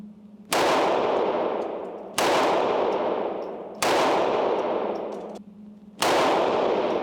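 Four loud gunshots from a rifle fitted with a magazine, fired at a distance range, each a sharp blast with a long decaying echo, evenly spaced about every second and a half, with no talking.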